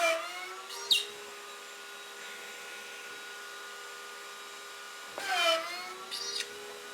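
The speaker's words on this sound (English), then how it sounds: "I'm ready to cut these two pocket holes in the plywood" A Maksiwa PHM 3.0 automatic pocket hole machine runs on plywood with a steady, whining motor hum, marked by a sharp click near the start and a louder burst of cutting later on.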